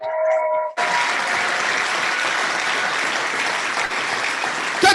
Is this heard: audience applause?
yes